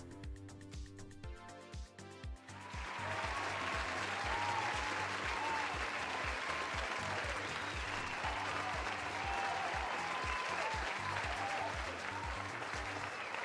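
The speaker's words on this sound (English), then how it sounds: "Let's give Touched Spaghetti a round of applause." A stream audience gives a round of applause for fan artwork, a dense, steady burst of clapping that starts suddenly and fills the rest of the moment after soft background music.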